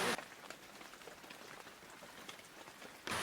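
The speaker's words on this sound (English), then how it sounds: "The rain is coming down." A rain shower on a hiking trail in Singapore, a soft, even patter of drops falling steadily and quietly without a break.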